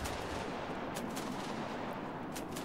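Distant artillery fire in the Fog of War pre-alpha game, heard as a steady rumbling battlefield wash with a few faint, brief cracks of gunfire scattered over it.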